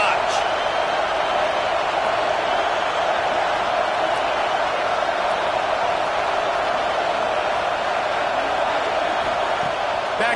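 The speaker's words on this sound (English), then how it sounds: "this crowd is turning it up a notch" A steady roar of stadium crowd noise fills a College Football 26 game between Michigan and LSU, a constant wash of cheering beneath a commentator's voice throughout.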